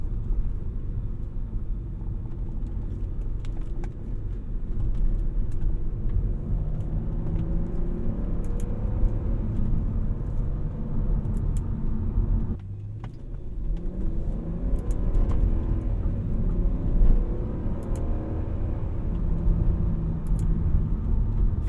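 A 2003 Audi S8 with its V8 engine pulls hard in first gear, a steady, loud engine rumble with rising revs that dips briefly at a shift-like break midway, then climbs again, with no talking.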